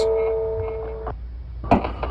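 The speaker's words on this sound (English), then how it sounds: "Male walruses can make these bell-like sounds underwater." A male walrus makes a sustained, ringing bell-like tone underwater that fades, followed by a couple of dull knocks.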